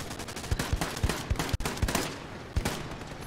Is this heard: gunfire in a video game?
yes